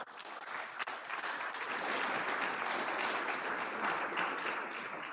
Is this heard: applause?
yes